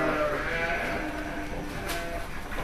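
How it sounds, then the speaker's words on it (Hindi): Goats bleating repeatedly as they come into the feeder shed on a goat farm, a dense chorus of overlapping calls with some nearby voices mixed in. "अब देख सकते बकरे सब अंदर आ रहे हैं अभी फीडर पे"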